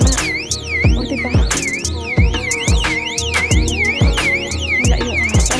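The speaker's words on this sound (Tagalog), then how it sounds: "Mahina yung alarm nila ngayon pero malakas pa ko sa diba?" A loud electronic alarm cycles continuously through rapid rising and falling warbling tones, each sweep repeating steadily at close range with no talking over it.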